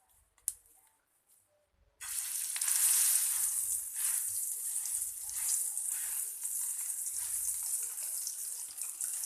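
Ula pitha dumplings of rice dough hit a hot griddle and break into a loud, steady sizzle that starts abruptly and holds continuously, after a short stretch of quiet kitchen sounds.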